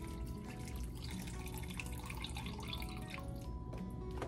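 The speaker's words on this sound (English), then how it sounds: "now we're gonna pour the rest of our chicken broth" A full 32-ounce carton of chicken broth pours steadily into a cooking pot with lasagna soup ingredients, a continuous soft liquid splashing and trickling with no talking.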